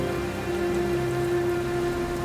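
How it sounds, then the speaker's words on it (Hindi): Steady rain with strong wind pours down continuously, a dense, even hiss of drops on surfaces, with a low tonal hum underneath, during a lightning storm. "तेज हवा के साथ बारिश और उसी बीच बिजली कड़कने लगी"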